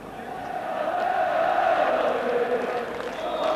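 Large football crowd at Ibrox Stadium before Rangers kick off against Raith Rovers, a broad roaring hum of voices swelling and holding steady, distant and continuous.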